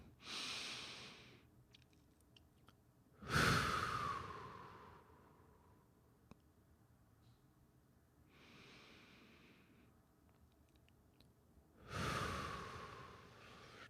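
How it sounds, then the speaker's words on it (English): Slow, deep breathing during a guided meditation, with two long, loud inhales and softer exhales in between, close and unhurried, with no speech over it. "let's just take a deep breath here"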